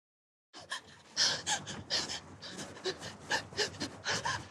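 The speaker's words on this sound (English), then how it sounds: "hear the breathing of whoever has the gun trained on them" From the film A Quiet Place II, a person holding a gun on someone breathes in quick, ragged pants and gasps, close and tense, a string of sharp breaths after a moment of silence.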